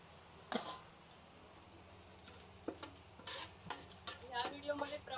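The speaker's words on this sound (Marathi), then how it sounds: "2 ते 3 चमचे मी जिरं, बडीशोप, मिरी, लवंगा, स्टारफूल, दालचिनी, मोठी वेलची, तेजपत्ता हे आपल्याला सगळं तेलात टाकायचं आहे" Whole spices such as cumin, fennel, peppercorns, cloves, star anise, cinnamon, black cardamom and bay leaf hit hot oil for a large batch of pulao, giving sharp sizzling bursts and scraping stirs, fairly faint and intermittent.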